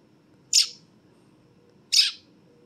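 Young robin chirping, two sharp high calls about a second and a half apart with a third just starting, close and clear over faint low background hum.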